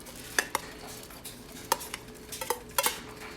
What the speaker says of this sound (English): Mix that all in.